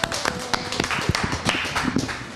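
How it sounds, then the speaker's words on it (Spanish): A small audience claps on cue, a brief burst of scattered, uneven hand claps at moderate volume. "ahora el aplauso, 1, 2, 3"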